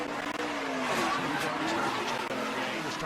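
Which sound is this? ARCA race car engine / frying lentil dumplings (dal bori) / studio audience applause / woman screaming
ARCA race car engine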